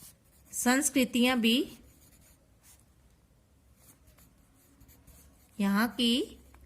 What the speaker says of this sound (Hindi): दूसरी लाइन हम यहां से लिखेंगे